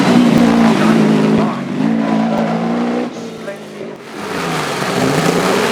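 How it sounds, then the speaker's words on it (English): McLaren M6 GT, the first McLaren road car later converted to Can-Am spec, racing up the Shelsley Walsh hillclimb; a loud engine roar rises through gears, dips briefly, then climbs again, with commentary over it. "in the unique and beautiful McLaren M6 GT, the very first McLaren road car"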